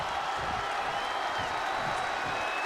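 Wrestling arena crowd in WWE 2K25 during a Randy Orton match, a steady, dense roar of cheering and applause filling the space, moderately loud and unbroken throughout with no distinct voices.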